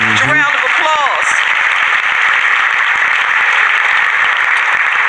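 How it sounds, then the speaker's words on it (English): A crowd applauds the City Council President in a loud, continuous roar of clapping, with a speaker's voice heard briefly at the start before the applause carries on alone. "Give our Council President a huge round of applause."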